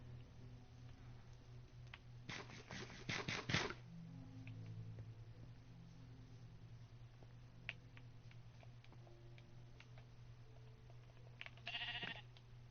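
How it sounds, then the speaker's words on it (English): Sheep in Minecraft bleat in a quick cluster of several calls near the start, then a shorter call later, over a steady low hum with faint ticking clicks. "Nobody likes you, stupid sheep."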